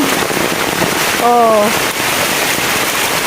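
Heavy typhoon rain pours down during Typhoon Paeng in a rural Philippine province, a dense, loud, continuous hiss of rain on surfaces, with a brief tonal sound partway through.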